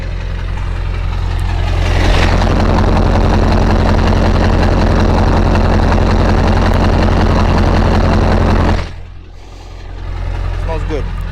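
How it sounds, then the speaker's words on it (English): A 26-year-old Powerstroke diesel truck engine runs with a loud, steady low rumble and throbbing idle close by, then dips briefly before resuming; speech is mixed in. "So I want to get like a nice cold start sound."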